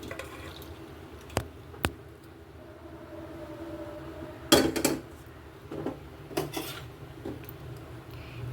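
A cooked pot of oil-free papaya and fish curry is lifted off a gas stove, with sharp metallic clanks of the pan against the burner grate and a cluster of scraping knocks, close and alone with no talk.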